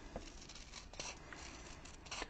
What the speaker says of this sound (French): je vais venir avec mes petits ciseaux découper